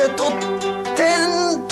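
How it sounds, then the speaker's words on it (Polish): Plucked guitar chords ring out steadily in a lilting 3/4 waltz pattern, close and clear with no voices. "Oto przykład walca w wykonaniu naszego cudownego gitarzysty"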